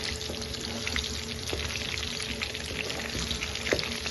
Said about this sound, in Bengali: আমার আসলে খুব চিকেন বল খাইতে ইচ্ছা করছিল, তো এখনই ভাজতেছি